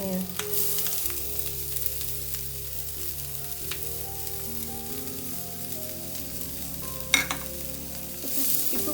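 Onion is tossed and fried in a pan for vegan soya cutlets, with a loud continuous sizzle and low rumble, occasional scraping stirs, and a brief clatter near the end.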